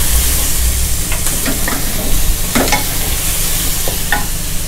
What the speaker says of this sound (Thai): ใส่เห็ดลงไปเลยนะครับอันนี้เราเริ่มที่เห็ดโคนนะเห็ดโคนจากจีนนะครับ